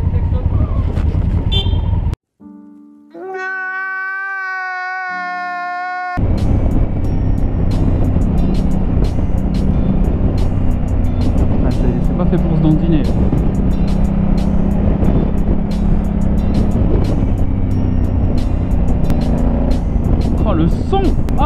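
A 2019 Honda Africa Twin motorcycle engine revs as the throttle opens during a road ride, a loud continuous drone under wind rush, with a short steady horn-like tone early on and someone talking over it.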